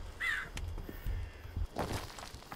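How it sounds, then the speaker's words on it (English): A crow caws once early on in the horror video game Sign of Silence, fairly faint over quiet ambient game sound and soft rustling. "I hear crows."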